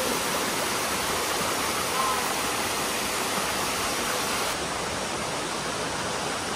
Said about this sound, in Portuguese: Aqui é uma cachoeira maravilhosa.